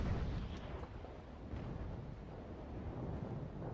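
A cannon ranging shot booms out in the naval sailing game Naval Action, a low, rumbling report over steady wind-like background noise, heavy in the bass and sustained rather than sharply cut off.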